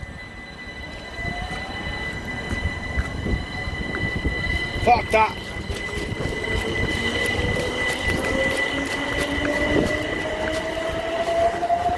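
A train passing on the line toward East Croydon, wheels squealing and rails rumbling steadily for the whole stretch, with someone talking briefly over it outdoors.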